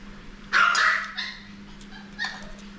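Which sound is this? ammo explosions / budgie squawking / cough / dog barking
dog barking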